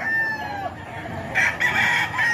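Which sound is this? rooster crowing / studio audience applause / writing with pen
rooster crowing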